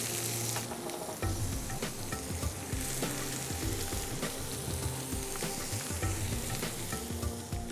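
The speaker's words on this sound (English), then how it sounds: "as the sizzling tends to slow down, it tells you that the oil is ready to receive the rest of the ingredients" Hot oil sizzles and crackles steadily in a pan, close and loud, with occasional stirring scrapes and pops, as the oil is heated for rogan josh.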